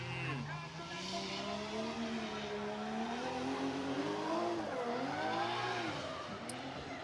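Drift car on a Japanese circuit, Ebisu West Course, sliding with a steady droning engine whose pitch rises and falls as it loses grip and spins, heard at a distance without a break.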